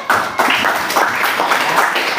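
Applause from a ninth-grade class at an Indonesian junior high school, a short burst of many hands clapping fairly loudly and evenly, with no talk over it.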